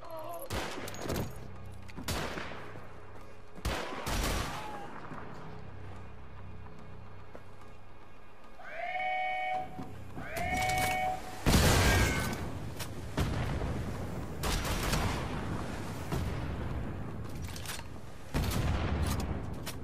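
Gunfire from a weapon in the video game Wolfenstein: The Old Blood bursts out in several sharp, loud volleys spread across the stretch, with louder blasts near the middle and later, set against quieter game ambience and tonal effects.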